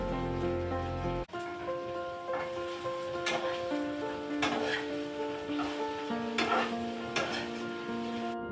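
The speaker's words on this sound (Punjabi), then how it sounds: "ਮੀਡੀਅਮ ਫਲੇਮ ਤੇ ਭਿੰਡੀਆਂ ਫਰਾਈ ਹੋਣ ਲਈ ਰੱਖੀਆਂ ਨੇ" Okra pieces fry in mustard oil over a medium flame with a steady, close sizzle and occasional stirring scrapes, over soft background music.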